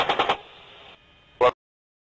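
Apache gunship cannon firing on a field in Iraq: a rapid triple burst of heavy shots, then a hissing lull and one more short, sharp burst, loud and with no voices.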